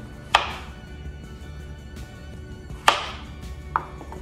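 A knife chops food into inch-sized pieces on a cutting board, giving three sharp, close thuds spaced unevenly with quiet between them.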